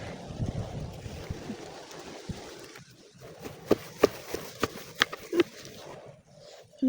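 Wind gusting through a dry-season bamboo forest, a steady broadband rush with scattered close clicks and knocks in the later seconds, no talking.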